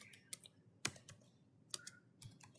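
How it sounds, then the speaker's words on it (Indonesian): A few keystrokes tapped on a computer keyboard while entering a network configuration command: sparse, separate clicks in small clusters, quiet and close, with no voice. "Lalu kita ketik enable"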